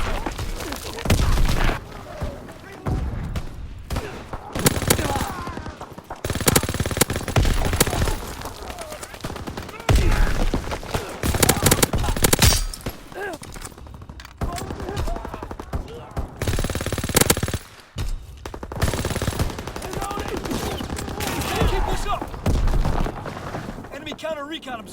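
Rapid machine gun fire in the Call of Duty WWII video game, loud bursts of automatic shots repeating with short pauses across the whole stretch, mixed with other game effects and voices at times.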